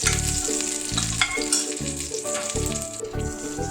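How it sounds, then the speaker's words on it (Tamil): Whole cloves, cinnamon stick and bay leaf crackle and sizzle in hot oil in a pan, a bright continuous frying hiss broken by repeated stirring scrapes and clinks, with no voices. "அதோட ஒரு 3 கிராம்பு பட்டை, பிரிஞ்சி இலை சேர்த்து பொரிய விட்டுக்கோங்க."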